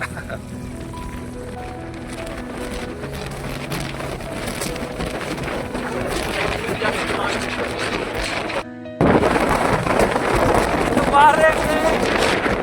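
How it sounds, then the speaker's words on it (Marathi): Strong wind at Sinhagad Fort roars and buffets the microphone, growing louder and rougher after a brief dropout, with a voice speaking over it. "इधर खूप जास्त वार आहे, खूप जास्त वार आहे"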